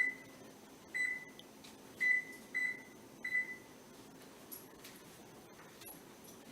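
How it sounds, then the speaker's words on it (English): A kitchen timer is set for baking meatballs, giving a string of short electronic beeps at uneven intervals, five or so bright chirps that are close but quiet over a faint room hum. "we'll set our timer"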